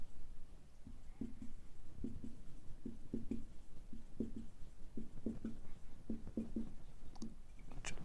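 Quiet taps and short scratchy strokes of chalk or marker writing chemical formulas on a board, irregular and faint, with no talk.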